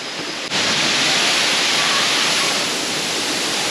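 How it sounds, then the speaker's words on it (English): A waterfall in Minca, Colombia roars up close, a loud, dense, unbroken rush of falling water that holds steady from start to finish. "Second waterfall."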